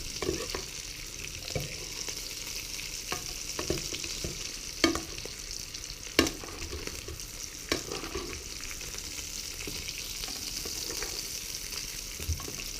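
Filet mignon frying in butter and oil while being basted: a constant hissing sizzle close by, with occasional sharp spoon clinks against the pan at irregular intervals.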